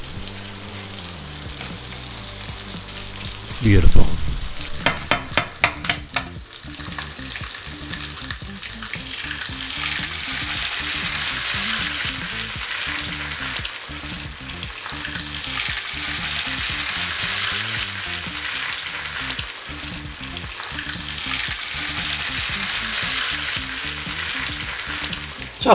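Bacon sizzles and crackles in a hot, dry pan, a bright continuous fry that holds steady and loud after a brief clatter near the start, with one short spoken word over it and faint music underneath.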